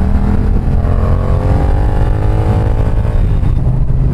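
Yamaha R7 motorcycle accelerating hard, a loud, dense engine roar with rising tones sweeping upward through a few seconds, close and continuous, wind noise mixed in, no talk.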